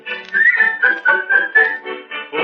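Someone whistles a melody in a clear, close, lively phrase of short rhythmic notes in a 1937 radio comedy setting with Charlie McCarthy and Snow White.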